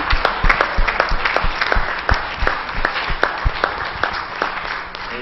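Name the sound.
church congregation applauding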